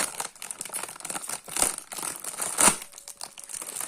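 Crinkly plastic rustling and crackling throughout, with two sharper tearing bursts as a packet is ripped open, fairly close.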